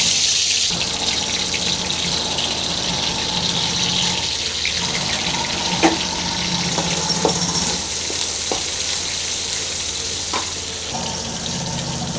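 Mustard seeds sizzle in hot sesame oil for a curry leaf pickle, a steady close crackling fry that continues evenly with a few small pops.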